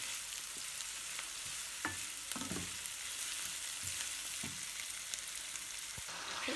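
Seasoned beef with thyme, onion, carrot and pepper sizzles steadily in a pan, a continuous frying hiss broken by a few sharp stirring clicks and scrapes, close by and with no talking.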